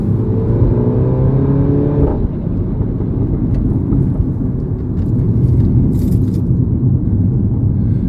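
A Mini F56 JCW with its resonator deleted roars loudly up close, the engine climbing in pitch through the revs before a shift, then settling into a deep, steady rumbling drone with faint crackles from the exhaust.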